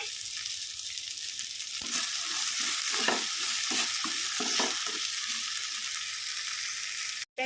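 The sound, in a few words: stirring onion and roasted gram mixture in pan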